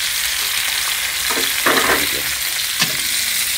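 Dalag (mudfish) frying in a pan with ginger, a steady loud sizzle with brief bursts of stirring swelling over it, no voices.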